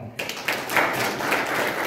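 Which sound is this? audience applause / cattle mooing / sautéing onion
audience applause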